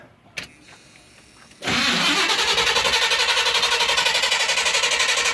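A 1982 Chevy fitted with a Corvette engine cranks briefly and then fires up with a sudden loud roar. It settles into a rough, pulsing, throbbing run close by, with no talking.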